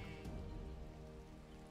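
Rain falls in the farming video game Coral Island, a soft, steady patter of drops with a low rumbling bed beneath it, quiet and continuous with no voices.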